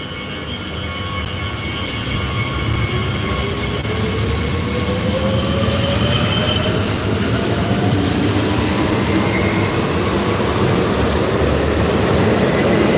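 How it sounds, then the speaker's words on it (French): Trains roll past in Bordeaux with a loud, continuous rumble of wheels on track, steady throughout, while high wheel squeal rises and drifts above the noise. "Donc là, nous avons eu 3 trains."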